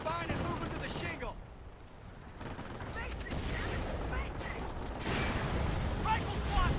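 Gunfire from a World War II video game battle, a dense, continuous wash of distant shots and rattling bursts with booming impacts, loud and sustained throughout.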